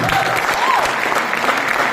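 A seminar audience applauds at a network marketing talk, steady close clapping lasting the whole two seconds with a faint voice mixed in.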